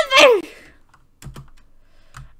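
Keyboard key presses while playing a Roblox soccer ball game: a loud voice-like burst at the start, then a few quiet, spaced clicks and taps.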